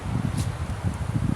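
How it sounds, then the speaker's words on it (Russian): Wind gusts through a swaying pine forest in a steady, low, soft rushing, fairly faint and with no voices. "Ветер у нас последние несколько дней гуляет."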